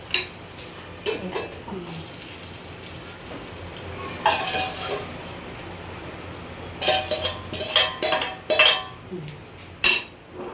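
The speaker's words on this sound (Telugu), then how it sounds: "ఇలా పోపు వేసుకుంటే ఒకసారి తిప్పకు లైట్గా" A tempering of spices stirred in a hot pan, bursts of metal spoon scraping and clinking against the pan over a low sizzle, close and intermittent, loudest near the end.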